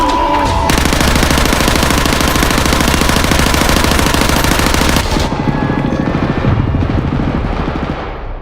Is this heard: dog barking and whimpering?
no